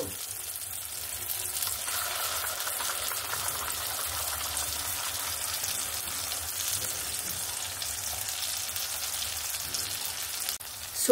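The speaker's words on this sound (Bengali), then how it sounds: "সর্ষে পোস্ত বাটাটা দিয়ে ভালো করে পেঁয়াজ আর টমেটো কাঁচা লঙ্কার সঙ্গে ভালো করে কষিয়ে নেব" Onion, tomato and green chili fry in a pan with ground mustard-poppy paste, giving a loud, steady sizzle and crackle close by, with occasional stirring scrapes and a clink near the end.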